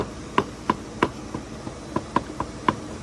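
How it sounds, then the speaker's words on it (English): Sharp metallic clinks of 6L90 transmission parts, metal on metal, strike about eight times at uneven intervals, fairly close and quiet, with nothing else around them. "It's the sound of metal on metal."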